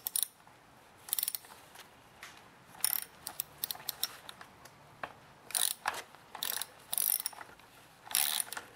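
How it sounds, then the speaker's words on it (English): A 1/4-inch ratchet clicks in short bursts as it turns a stud extractor held in a 1/4-inch socket, working counterclockwise on a broken Stihl chainsaw bar stud; the bright clicks are close and come in irregular groups, with no talking. "So now I've got the extractor in a 1/4-inch socket with a 1/4-inch ratchet."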